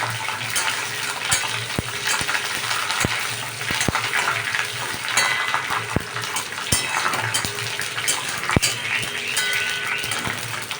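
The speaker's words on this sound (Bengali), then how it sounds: "ভেজে নিচ্ছি" Curry leaves fry in hot oil with a steady sizzle, spattering crackles and occasional sharp clinks of a utensil against the pan; no one talks over it.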